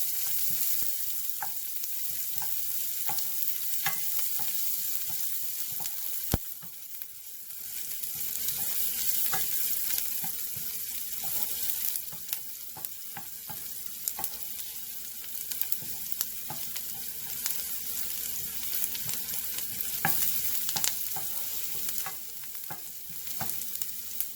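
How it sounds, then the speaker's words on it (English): Chopped onion fries steadily in a pan for bitter gourd fry, a continuous moderate sizzle with frequent spatula scrapes and stirring clicks, close and without voices. "Add your chopped onion and fry till the onion becomes soft."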